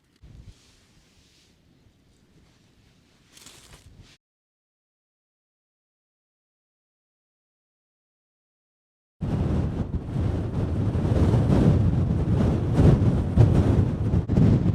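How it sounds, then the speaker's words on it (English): Strong wind buffets the microphone on the open North York Moors: faint gusts and rustle at first, then near-silence, then a loud, sustained roaring rush of wind for the final several seconds. "that wind's still pretty strong"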